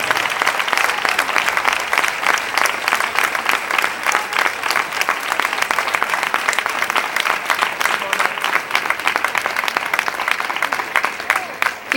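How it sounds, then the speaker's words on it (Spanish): Loud, sustained applause from a festival crowd as the queen of the 2009 town festivities is presented, dense clapping that holds steady for about twelve seconds before easing off at the end. "Fuerte aplauso para la reina de las fiestas"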